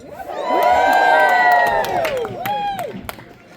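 Spectators at a Revolutionary War battle reenactment in Bound Brook, New Jersey cheer loudly together, a swelling chorus of shouts and whoops that tapers off with a few scattered claps.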